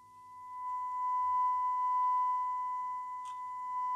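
Steady sine-like tone from a Graetz Melodia 519 valve radio under restoration, heard during alignment as the tuning peaks; faint and continuous with a low hum beneath and a brief click near the end.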